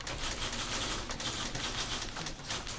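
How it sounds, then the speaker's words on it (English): Several typewriters clatter together in a room inside the video game The Beginner's Guide, with dense, continuous key strikes and carriage noise at an even, close level and no voices. "A room full of typewriters."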